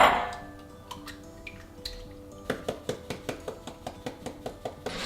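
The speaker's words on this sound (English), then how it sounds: "A few cracks of pepper." A pepper grinder cracks pepper over an omelette in a home kitchen, giving a steady run of about a dozen sharp, evenly spaced ticks up close, after a few scattered clicks and clinks.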